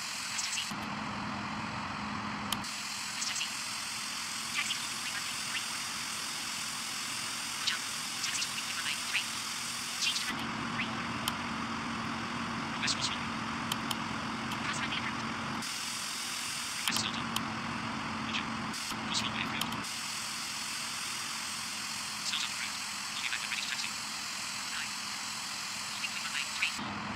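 A Korean Air MD-11 taxis in a flight simulator game, a steady jet engine hum with a low drone, interrupted by abrupt cuts and shifts in tone, and occasional faint clicks.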